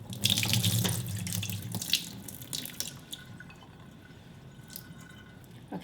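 Tap water runs steadily into a kitchen sink as something dusty is rinsed until the water runs clear, loud and close for the first two seconds, then fading to a softer trickle and occasional drips.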